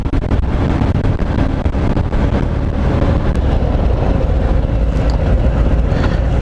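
A 2018 Harley-Davidson Fat Bob motorcycle, a 114 version, ridden at speed, its engine a steady loud drone mixed with heavy wind rush over the microphone throughout.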